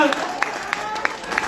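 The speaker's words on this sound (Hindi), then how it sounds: "प्रस्तुति पसंद आई तो तालियां बजाइए।" An audience at a mushaira poetry gathering claps in a few sparse, evenly spaced beats, heard beneath a voice.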